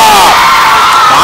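A school talent show audience cheers and shouts loudly, a dense crowd roar of whoops and yells that fills the room without pause.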